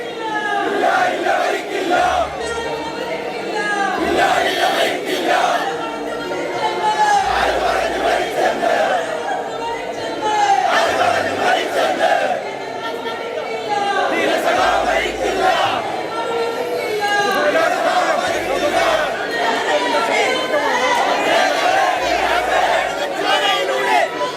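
A dense crowd lining the roadside in Kerala chants slogans in rhythmic surges during a funeral procession for a communist leader, a continuous loud roar of many voices with repeated rising bursts of shouting.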